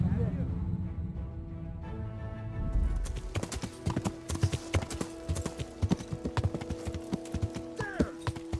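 Horse hooves clip-clop in a steady rhythm at close range in the video game Kingdom Come: Deliverance, with a brief whinny and some talking underneath.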